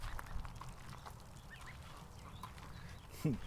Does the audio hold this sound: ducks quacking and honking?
yes